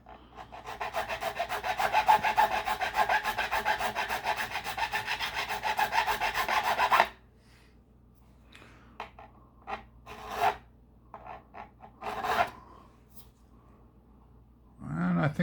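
A file rasps in quick, rhythmic back-and-forth strokes over a guitar's metal frets during fret crowning, close and steady for about seven seconds. Scattered light scrapes and taps follow, with a few brief strokes near the end.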